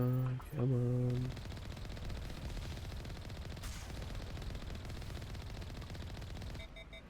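Rapid automatic gunfire from the Mass Effect video game, a dense, sustained rattle of closely spaced shots lasting several seconds after a brief tonal cue, fairly loud and near.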